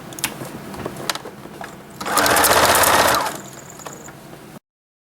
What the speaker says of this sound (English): sew them together across the top